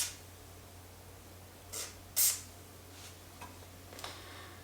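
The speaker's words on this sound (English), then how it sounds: "So up here in these wheel bearings, I'm going to go ahead and squirt just a little bit of Tri-Flow in there." Tri-Flow lubricant squirted into the wheel bearings of a Peloton exercise bike gives a couple of short, soft spray hisses close by, the second a little louder, over a quiet room hum.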